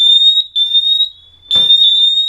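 A Cavius smoke alarm beeps loudly and close up, a steady high-pitched tone broken into short repeated pulses with a brief gap in the middle.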